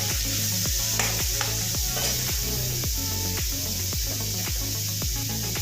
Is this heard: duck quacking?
no